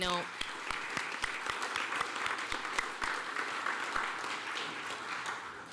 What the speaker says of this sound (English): Let's give one more round of applause to all of the candidates.